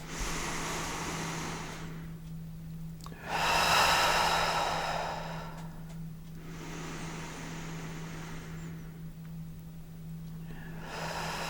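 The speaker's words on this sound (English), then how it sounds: "take 3 nice deep breaths with me" Slow, deep breaths taken during a guided tarot meditation: about three long, airy inhale-exhale cycles drawn close to the microphone against a steady low hum, with no talking.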